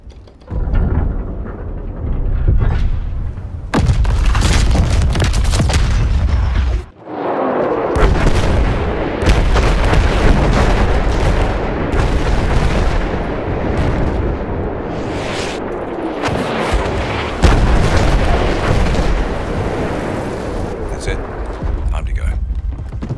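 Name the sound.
dreadnought artillery bombardment of a beach in video game Battlefield 1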